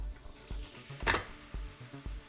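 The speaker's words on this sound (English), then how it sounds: "in theory we can gently pop the back off" The plastic back cover of an iMac G4 pops free in one sharp, bright crack near mid-clip, surrounded by soft low thumps and handling knocks at close range.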